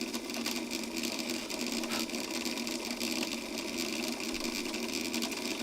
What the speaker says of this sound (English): this is an old Bernina sewing machine